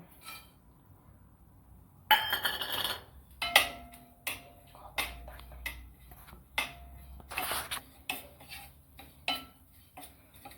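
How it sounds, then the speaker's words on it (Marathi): Grated coconut dry-roasted in a pan for sesame poli, a series of sharp clinks and scrapes from a spoon against the metal pan, irregular and close, with quiet gaps between strokes. "आता आपण खोबरं भाजून घेऊ"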